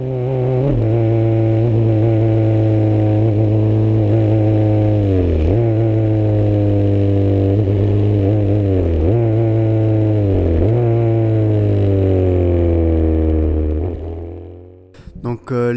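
Onboard a Formula 3 car driving fast on the Paul Ricard circuit: a loud, close engine drone climbs steadily, drops sharply at a few upshifts, then cuts off near the end. A voice talks over it.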